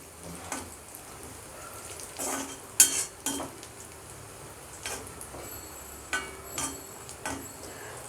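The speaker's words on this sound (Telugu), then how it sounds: "మనం సిమ్లో పెట్టుకొని ఫ్రై చేసుకోండి." Raisins fry in a pan on low heat, a faint soft sizzle under intermittent scrapes and clinks of a utensil stirring against the pan.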